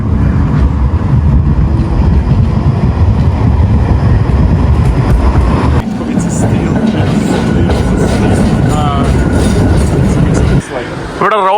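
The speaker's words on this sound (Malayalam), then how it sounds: "തൊട്ടടുത്ത് നമ്മുടെ ട്രാം പോകുന്നുണ്ട്" A tram rumbles past close by in Ostrava, a steady low roar with rhythmic clattering, and squealing wheels toward the end.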